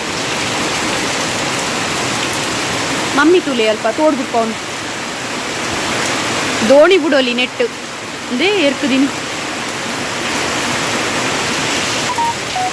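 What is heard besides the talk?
rain falling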